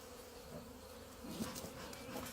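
Honeybees buzz softly around an overflowing frame during a hive inspection, a low steady hum that swells slightly toward the end, with no talking.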